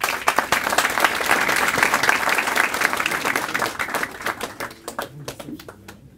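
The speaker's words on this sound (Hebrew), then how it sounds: "מגיע לו כפיים." Audience applause at a rabbi's religious talk, dense rapid clapping from a crowd that stays loud, then thins into scattered claps and fades toward the end.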